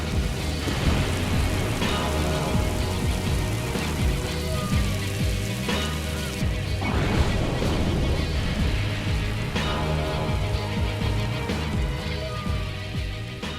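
Simulated rain from the ATI Toy Shop 2005 tech demo street scene pours in a dense, continuous patter with low rumbling thunder rolling beneath, steady and enveloping throughout.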